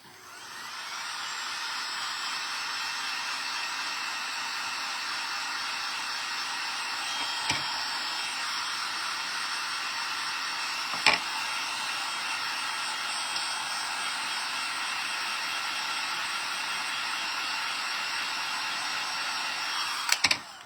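A handheld heat dryer blows over craft paste on a lemon-themed tray, a steady loud whooshing whir that runs continuously with a few faint knocks, no voices.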